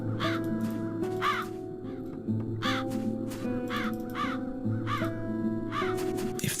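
Crows in the adventure game The Dark Eye: Chains of Satinav caw repeatedly in quick pairs and clusters, clear and fairly close over a steady low ambient drone.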